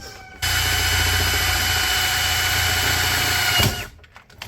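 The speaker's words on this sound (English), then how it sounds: "right there is where we want to drill the hole" A power drill whines steadily for about three seconds at close range while drilling a hole to install a water filter, starting abruptly and winding down, with no talking.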